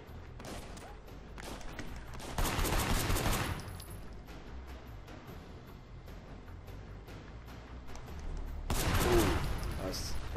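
Gunfire in the action video game Sleeping Dogs rattles in a couple of loud volleys over a softer background of game noise and occasional talk.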